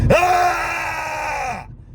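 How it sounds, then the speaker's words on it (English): One loud, sustained primal scream from a single voice, raw and strained, holding steady for over a second before cutting off abruptly, close and alone. "It's a more primal scream."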